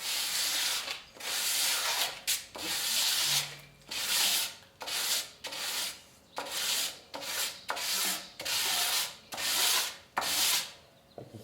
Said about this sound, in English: Use a firm sanding block. If I have one, which I do, it's in a box somewhere. I got a piece of scrap 2x4.